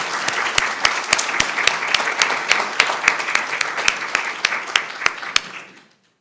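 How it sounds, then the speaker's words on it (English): Audience at a county candidates' forum applauds both candidates, a full steady round of clapping with sharp individual claps standing out, holding level for several seconds before fading out quickly. "Let's give both candidates a round of applause."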